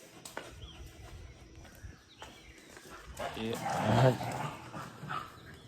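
A dog barks and whimpers near a Khodiyar temple, giving a few sharp yips before a louder, drawn-out whining cry, while people talk nearby.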